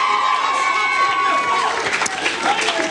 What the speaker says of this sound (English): Clap your hands and shout unto God with a voice of triumph